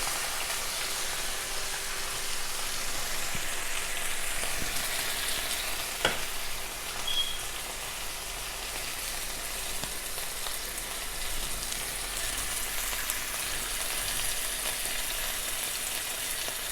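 Soft sour cream sizzles in a skillet with a constant, quiet crackling hiss and one sharp clink partway through, with no voices.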